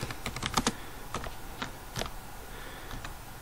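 Someone types on a computer keyboard while writing C code, with quick clusters of crisp, close key clicks, then sparser single taps, moderately quiet and without talk.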